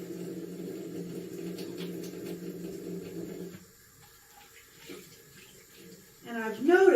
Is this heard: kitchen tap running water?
yes